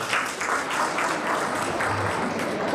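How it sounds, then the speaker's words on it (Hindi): The audience at a coaching institute's annual function claps loudly for a student who took fourth position, a continuous, even round of applause from many hands. "इसके लिए जोरदार ताली।"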